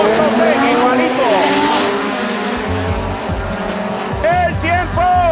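Drag racing cars roar down the strip at a national event, loud engine howl with rising and falling whines and tire noise, while an announcer talks over the racket.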